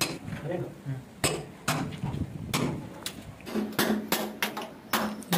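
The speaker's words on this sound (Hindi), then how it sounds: "अब मैं इसको दोस्तों छीसल और हथौड़ा से इसको सब घीसी को निकाल देता हूँ" Chisel struck with a hammer to chip grinder-cut debris during plumbing work for a body jet pipeline, giving a series of sharp metallic clinks and taps at an uneven rhythm, close and fairly loud.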